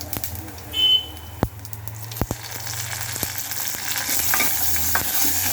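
Onion and curry leaves tempering in hot oil for spinach sambar, a steady sizzling hiss running throughout with a few sharp clinks and taps of a spoon against the pan.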